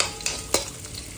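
Kalmi greens are stirred in a hot pan with a little green chilli, giving a soft steady sizzle broken by two brief scraping stirs close by, with no voices.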